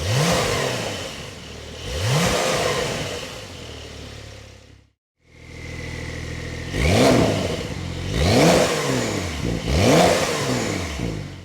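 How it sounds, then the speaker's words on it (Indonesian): A 2020 Porsche 911 Carrera S with left and right sport exhausts revs repeatedly: loud rising blips at a close, steady pace, broken once by a brief silence before several more throttle blips. "Lalu ada sport exhaust di kanan sama di kiri yang sudah tidak diragukan lagi"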